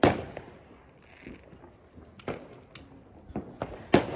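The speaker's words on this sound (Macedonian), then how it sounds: "Ајде сега огнометите, ајде." New Year fireworks and firecrackers outdoors, with a string of sharp pops and bangs scattered irregularly at moderate distance and a loud burst at the start and near the end.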